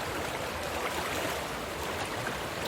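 Loud, continuous rushing of river water in Snowdonia, Wales, a dense broadband roar that stays steady throughout and drowns out a nearby major road.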